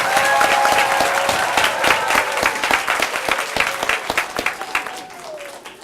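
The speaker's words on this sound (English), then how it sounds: "Let's give a round of applause for these kindergartners." A round of applause for kindergartners at a school ceremony, a crowd of parents clapping loudly with distinct individual claps that thin out and fade over several seconds, a faint tone lingering beneath.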